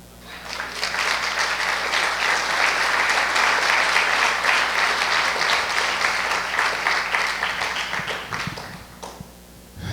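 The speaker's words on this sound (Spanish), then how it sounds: "Eso es para darle un aplauso al Señor." A church congregation claps its hands in sustained applause at a service, many palms rising quickly into a dense, even patter that holds for several seconds and then fades out near the end.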